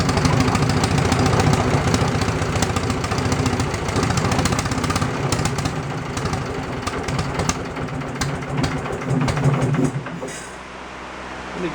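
A Wisconsin generator engine runs loud and steady close by, with a rough, knocking idle that rises and falls as it is revved, then drops off near the end.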